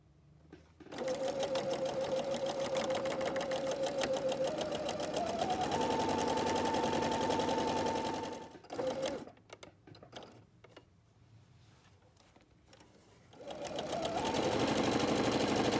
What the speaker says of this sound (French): on va venir faire une couture ici